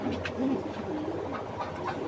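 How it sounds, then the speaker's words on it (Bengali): A pair of old-breed Naptha pigeons coo close by, giving soft, low, rolling throaty calls in quick repeated bursts. "এটা হলো পুরান জাতের একজোড়া নাপ্তা কবুতর"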